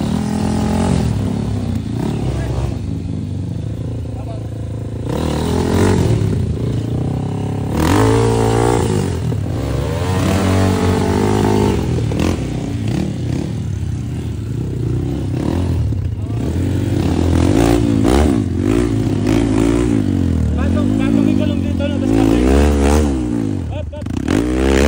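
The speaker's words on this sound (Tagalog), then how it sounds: "Patayin mo muna yung makina ko yan." A motorcycle engine runs close by and revs repeatedly in rising and falling surges, with some clatter, while people talk loudly over it.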